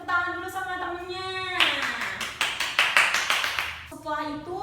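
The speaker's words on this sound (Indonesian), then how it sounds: "Kasih tepuk tangan dulu sama temennya." Classmates in a school classroom applaud with a burst of sharp, rapid hand claps lasting a couple of seconds, framed by a voice speaking or reciting before and after.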